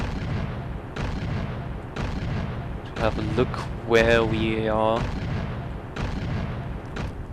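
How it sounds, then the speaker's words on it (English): Medium-caliber anti-aircraft gun firing in the IL-2 Battle of Stalingrad flight game: a steady series of heavy booming shots about once a second, heard under the engine drone, with someone talking briefly in the middle. "A medium caliber AAA gun is also shooting at us."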